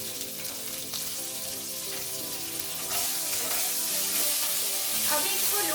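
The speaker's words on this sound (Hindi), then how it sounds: "अभी हम उसी ऑयल में बेल पेपर्स को भी 1 से 2 मिनट के लिए मीडियम फ्लेम में फ्राई करेंगे और इसमें अनियंस भी डाल देंगे" Bell peppers and onions fry in oil over a medium flame, a steady broadband sizzle with faint stirring clatter that grows louder and denser partway through, no voices.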